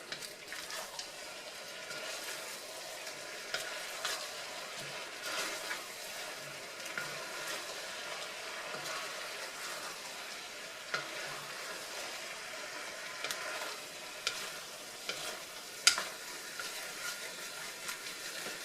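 Beef bourguignon with meat and bacon in a pot is stirred, a utensil scraping across the pot bottom in repeated soft strokes over a steady low sizzle, close and moderately quiet.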